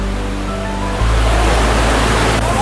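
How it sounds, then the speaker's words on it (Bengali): A rushing stream of water at Panchalingeswar in Odisha roars as a loud, steady broadband wash that swells after the first second, with a faint hum audible early on. "দেখো জলের স্রোত দেখো"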